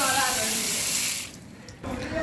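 Water runs steadily from a tap at a school camp, a loud broadband rush that briefly eases then resumes.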